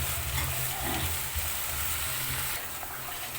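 Spice paste for crab bhuna frying and being stirred in a pan, a steady soft sizzle with low rumbling underneath and occasional scraping, moderately quiet and close, with no voices.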